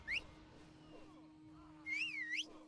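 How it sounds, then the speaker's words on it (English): A person whistles short melodic tones, a brief rising note, then a longer wavering phrase that slides up and down, thin and fairly quiet over a steady low hum in a gaming livestream setting. "I have different tones of my whistling as well."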